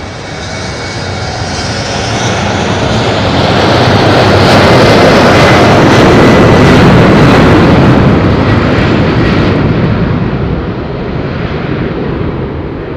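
A fixed-wing aircraft takes off from Madeira Island Airport, its engine roar swelling to a loud, broad peak midway through and then fading slightly as it climbs away, with no talk over it.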